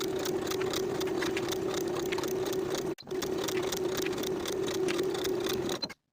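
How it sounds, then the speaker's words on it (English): A sewing machine runs steadily, stitching the center back seam of a lined vest with a 3/8 inch seam allowance, with a brief pause midway and then a stop just before the end. "Sew with a 3/8 inch seam allowance and press the seam open"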